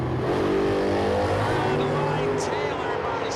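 A 1965 Ford Mustang drag car at a radial drag racing event roars steadily and loudly as it launches down the strip, with a commentator's voice over the engine noise.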